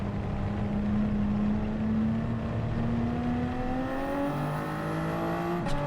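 Toyota Supra race car in Gran Turismo 7 drones steadily as its engine revs climb through the gears, a loud continuous whine rising in pitch with a brief shift near the end.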